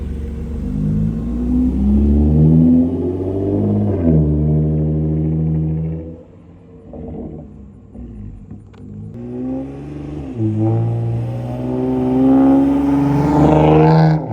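2021 Toyota Camry TRD with muffler and resonator delete, revved hard twice with a loud, raspy exhaust rising in pitch, then a brief deep burbling idle between the pulls, heard close with no talk.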